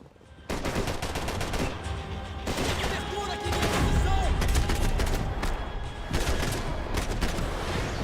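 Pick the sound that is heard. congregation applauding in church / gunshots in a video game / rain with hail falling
gunshots in a video game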